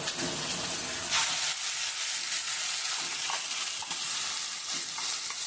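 Ground paste for a snake gourd and soybean bharta frying in a hot pan, a steady loud sizzle with scraping stir strokes breaking through every second or so; no one talks.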